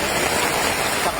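Strong floodwater current of a river swollen by heavy typhoon rain in Antique, a steady, dense roar of rushing water filling the whole moment without pause, close and loud, with no voices.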